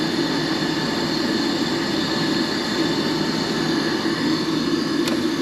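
A furnace burner that has just ignited and is firing, giving a steady, loud roaring rumble with a constant hum, heard alone and close.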